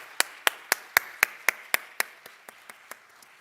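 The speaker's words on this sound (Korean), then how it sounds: "우리 서로에게 격려의 박수 한번 보내주었으면 좋겠습니다" Congregation at a Sunday church service clapping together in a steady rhythm of about a dozen sharp, evenly spaced claps that gradually fade softer toward the end, with no talking.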